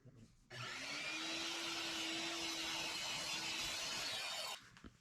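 A power saw cuts wooden boards down to 12 inches for a handmade gift, a loud steady whine with a held tone running about four seconds before stopping, with no talking.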